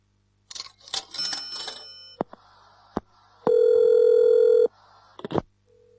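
A telephone call placed from a taxi: scattered clicks and rustles, brief tones, then a loud steady ringback tone lasting about a second and a half before more clicking, close and with no talk.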